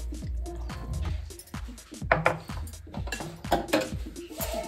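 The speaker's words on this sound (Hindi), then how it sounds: "अब इस सूजी में हम मठे को डालेंगे थोड़ा थोड़ा करके" Buttermilk trickling little by little into semolina in a bowl, with soft wet pours, squishy stirring and light clinks of a utensil against the bowl, close and fairly quiet.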